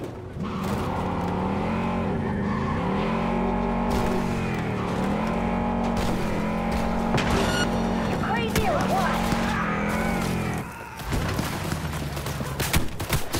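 Car driving in a video game: a steady engine drone with rising and falling pitch as it accelerates, mixed with gunfire-like bursts, while a voice talks over it.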